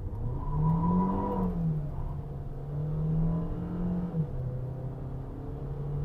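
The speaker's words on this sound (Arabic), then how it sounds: "خلينا نرجع نشوف تسارع السياره من صفر" An MG Whale car pulls away from a standstill, its engine droning and rising in pitch through gear changes in a smooth, moderate acceleration heard from inside the cabin, with no talking.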